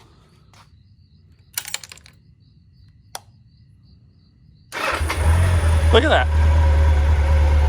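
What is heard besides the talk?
Honda CB750 Nighthawk motorcycle engine starting and idling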